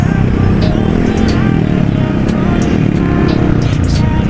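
Loud engine noise from a Kawasaki KLX motorcycle crawling in congested traffic behind an angkot minibus, with a car just behind the angkot, a steady close rumble and brief sharper vehicle sounds passing through.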